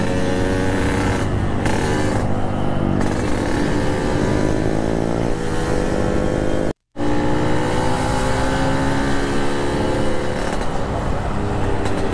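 Yamaha RX-King motorcycle being ridden, its two-stroke engine droning loud and close with rising and falling revs and a brief cut in sound midway.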